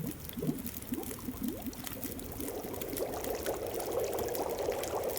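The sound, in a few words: heating rosehip tea in The Long Dark video game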